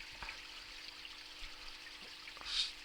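Water trickles steadily down a log into a garden pond, a soft continuous splashing flow heard up close with no voices, swelling slightly near the end.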